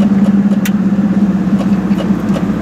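A car drives out of Ludwigslust, its steady engine drone and road rumble holding loud and close throughout with no voices.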